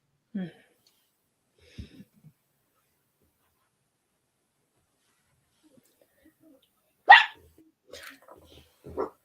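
A dog gives a few scattered barks in a quiet indoor room, sparse and moderately close, with a louder yelp-like burst and brief voice sounds later on.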